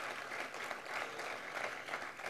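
An audience at an annual corporate gala applauds steadily, a soft, even patter of many hands clapping throughout, heard from some distance.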